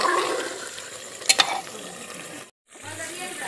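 Mutton is stirred in a pressure cooker pot with a wet, sizzling scrape, a couple of sharp metallic clinks, then a brief silence before the stirring resumes.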